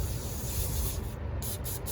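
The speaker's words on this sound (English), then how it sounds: "now take the rag, spray it down with brake clean, get a good corner of it all saturated," Brake cleaner sprays from an aerosol can onto a rag in a steady close hiss, broken by a few short pauses, while working on a Model T engine block.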